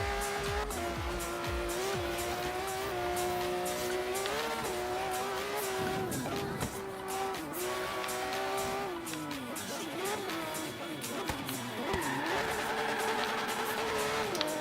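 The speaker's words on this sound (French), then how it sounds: "Ça me permet de finir en drift." In the Forza Horizon 3 racing game, a car drifts with its engine droning loudly and tires squealing in long sliding wails that rise and fall, with a steady continuous roar throughout.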